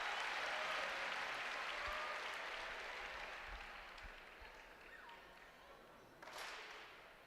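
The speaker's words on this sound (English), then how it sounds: "You hear the clap." Fans at Crisler Center clap during a Michigan vs Iowa women's basketball game, a broad arena roar of clapping that slowly fades, with a few sharp thuds and a late swell of crowd noise.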